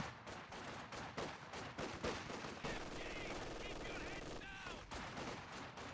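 A heavy machine gun fires in a video game, with rapid bursts and sharp repeated shots in clusters over a busy battle ambience. Other game sounds are mixed in and a voice may be present.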